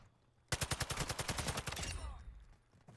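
Weapon fire in the Call of Duty DMZ video game: after a quiet moment, a fast, loud string of rapid shots rattles out for about a second and a half, then trails off into echo and low rumble.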